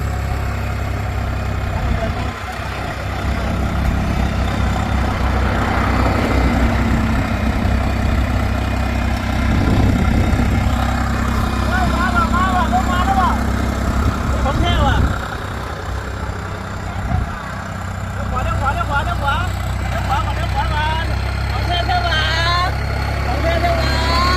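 A vehicle engine runs loudly and steadily throughout, surging in places, with people shouting over it.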